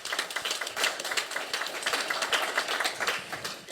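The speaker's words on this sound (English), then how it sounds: "Give her a big round of applause." Audience applause at an evening talk event, a steady patter of many hands clapping close and fairly loud, with no voices over it.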